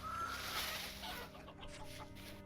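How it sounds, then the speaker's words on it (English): Chickens in the game Vintage Story clucking softly nearby, a few short cackles over a quiet ambient hum, fading after the first second. "Be quiet, you little chickens."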